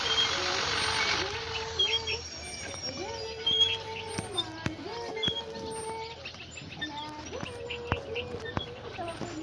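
A truck in India maneuvers to make a U-turn over a road bump, its reversing alarm beeping in a steady repeated pattern beside a low engine rumble. Birds chirp and people talk in the background.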